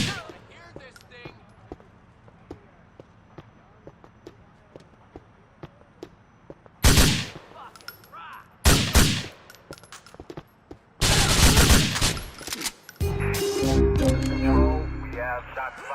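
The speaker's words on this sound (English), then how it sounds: "We have shots fired on Savage Drive" Gunfire in the video game Grand Theft Auto 4: sparse clicks give way to several loud bursts of rapid shots in quick clusters, followed by a sustained noisy stretch, with game voices speaking around it.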